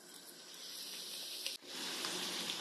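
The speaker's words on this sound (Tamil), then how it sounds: "இப்போ இதை போட்டு பொரிக்கலாம்." Somas, sweet Tamil pastries for Diwali, frying in hot oil in a kadai, a steady close sizzle and bubbling hiss that runs without pause and briefly dips partway through.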